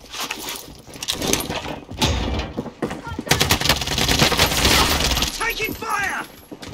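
Gunfire in the Call of Duty Warzone video game, sharp bursts and rapid shots cracking close and loud over a few seconds, with a voice talking between the shots.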